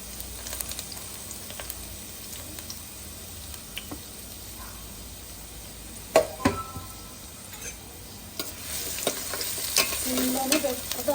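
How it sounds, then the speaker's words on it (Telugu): Thinly sliced onions frying in oil, a soft continuous sizzle with occasional clicks and scrapes of stirring, building louder toward the end as the pan heats up. "ఆయిల్ వేసుకొని దీంట్లో సన్నంగా కట్ చేసుకున్న ఎర్రగడ్డలు వేసుకోవాలండి"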